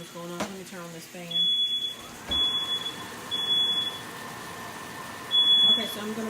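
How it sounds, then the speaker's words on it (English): Home smoke alarm in a kitchen sounding four shrill high-pitched beeps in an irregular rhythm, while a person talks nearby and cooking clatter sounds at the start. "my smoke alarm's going on."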